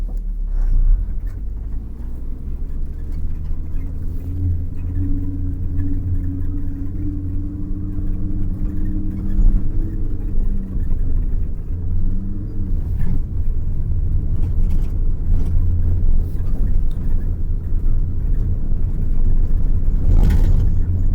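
A car driving on a road during a driving lesson, its engine giving a steady low rumble with gentle revving and a rising whir as it speeds up, sounding close and continuous with no voices.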